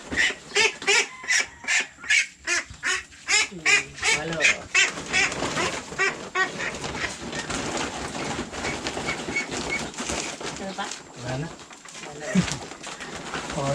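Ducks (itik) in a farm pen give loud, repeated calls in a quick run at first, then a denser mix of overlapping calls with some talk underneath.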